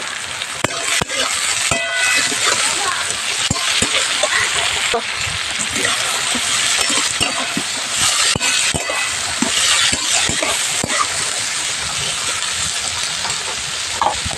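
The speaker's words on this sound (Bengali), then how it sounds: "সবজিগুলো ভালো করে ভেজে নেব।" Chopped onion, green chilli, carrot, capsicum and beans fry together for egg chowmein, a loud continuous sizzle and hiss broken by scraping and stirring knocks, with a voice talking over it.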